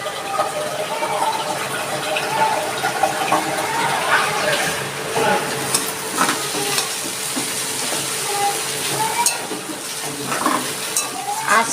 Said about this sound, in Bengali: মাছটা আমি কাটা বেছে রেখেছি এটা এখন দিয়ে দিচ্ছি